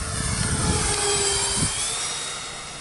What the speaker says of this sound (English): Coming for a really low pass.